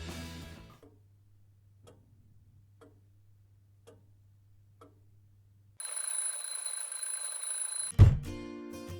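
A clock ticks softly, then a loud, shrill alarm bell rings for a couple of seconds before a heavy thump cuts it off.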